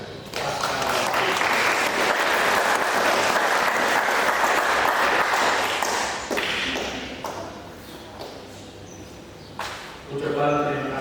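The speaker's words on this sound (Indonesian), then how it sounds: "Untuk itu mari kita memberikan tepuk tangan yang meriah untuk Pascal dan Dewi." Wedding guests applaud after a Catholic marriage blessing, a full, steady round of clapping for about six seconds that then tapers off into scattered claps, footsteps and room noise.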